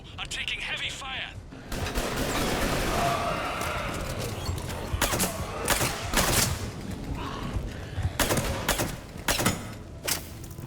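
Heavy gunfire in the video game Mass Effect 3, repeated sharp shots in irregular bursts over combat noise, with a voice talking over the firing.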